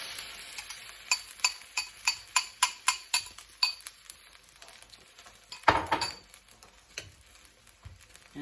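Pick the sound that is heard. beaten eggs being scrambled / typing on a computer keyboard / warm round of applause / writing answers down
beaten eggs being scrambled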